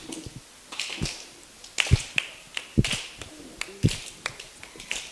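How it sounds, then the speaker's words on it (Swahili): Children clap during a song, a series of sharp, separate claps coming in irregular bursts at moderate loudness, with faint voices in between. "Makofi na nguvu."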